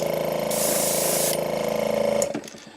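An airbrush spraying paint onto a bass fish pattern, a loud, close, steady motor hum with a hissing burst of spray in the middle, then cutting off abruptly.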